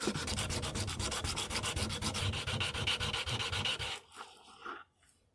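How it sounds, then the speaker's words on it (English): Metal loading gate for a Belgian pinfire revolver rubbed back and forth on sandpaper, a fast, even rhythm of close, raspy strokes that stops abruptly near the end, leaving a couple of faint scrapes. "I'm rocking the gate as I sand since there's a slight curve to this face."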